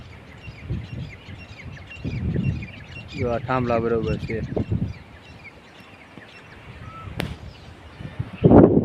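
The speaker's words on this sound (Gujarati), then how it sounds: "મોર પણ બોલે છે" Loud, nasal peacock calls ring out in the middle at a seashore in Gir, with someone talking before and a shout near the end.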